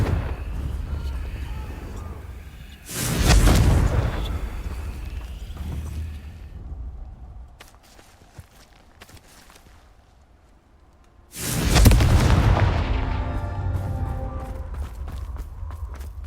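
Confringo fire spells from the Hogwarts Legacy video game go off in two loud bursts several seconds apart, each a rumbling blast that trails off over a low mechanical background.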